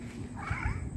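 A stray cat makes a short, close vocal sound, a low rumbling purr with a brief rising meow-like cry over it, lasting about a second.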